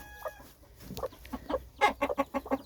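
A broody hen clucks in a series of short, rhythmic calls with day-old chicks placed under her, the clucks growing louder and quicker toward the end, with no talking.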